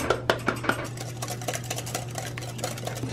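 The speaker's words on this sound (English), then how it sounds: "I guess we're just gonna toss them right in and just start whisking" A whisk clicks against a bowl as egg yolks for a lemon meringue pie are beaten, with a few sharp taps at first and then a softer, steady rhythmic stirring close by.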